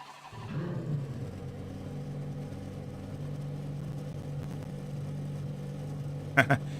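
A racing car engine in the game Assetto Corsa Competizione hums steadily at a low, even pitch, with a couple of sharp clicks near the end and faint voices in the background.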